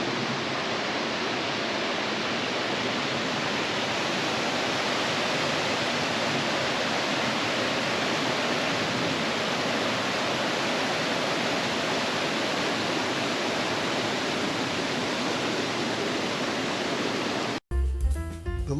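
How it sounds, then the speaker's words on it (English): Waterfall roaring at the crest of a falls on a low-flowing brook in the woods, a loud, steady broadband rush close by that holds unbroken for the whole stretch before cutting off abruptly near the end. "I now made my way as close as I could to the crest of the falls."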